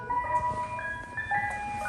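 Ice cream truck jingle looping through a megaphone, a tinny, tonal melody of bright repeating notes, fairly close and clear, with no talking.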